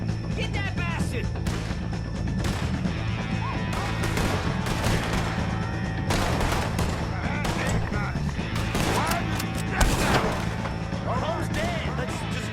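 Dense gunfire from a wagon load of enemies in Red Dead Redemption 2 crackles steadily for the whole stretch, with sharp bursts and crashes on top of a constant loud game mix and voices talking over it.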